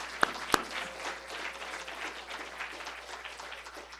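An audience in an auditorium at a university event applauds a college jazz ensemble with steady, moderately faint clapping throughout, opening with two sharp, close claps.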